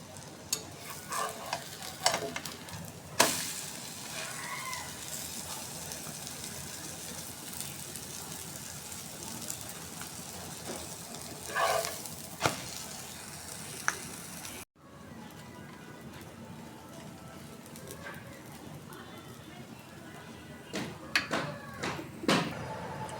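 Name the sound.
frying malabar spinach egg fritters in pan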